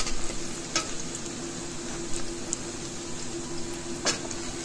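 Onions frying in a pan for chicken yakhni pulao: a steady close sizzle with a few brief scraping stirs, no voices.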